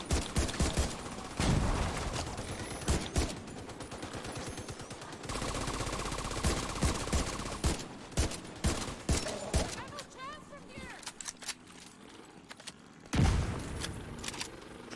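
Rapid bursts of gunfire from a video game shooter, played with a Steam Controller, crackle in quick volleys and single shots, with a steady mechanical tone in the middle and someone talking underneath.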